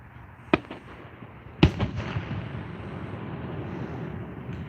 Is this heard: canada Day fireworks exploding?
yes